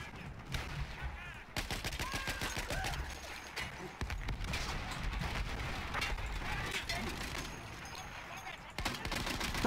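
Dense gunfire and sustained machine gun bursts in a Battlefield 1 campaign battle against an Italian offensive, continuous loud rattling fire with brief pauses and occasional heavier booms, a voice talking under it.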